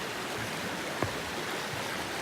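Water of 7-Mile Creek at Pictured Rocks National Lakeshore flowing steadily as a soft, even rush, fairly faint with one small bump partway through.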